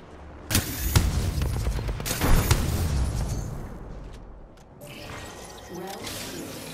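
Explosions and gunfire crackle through a firefight in the Apex Legends video game, where a frag grenade is thrown; loud broadband bursts near the start and around the two-second mark give way to lower rumbling and scattered shots.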